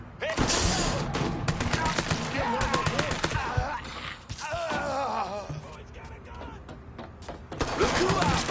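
Gunfire in the Mafia 3 video game, with rapid bursts of shots and clattering weapon mechanics that come in several dense clusters, loud and close, mixed with shouting voices.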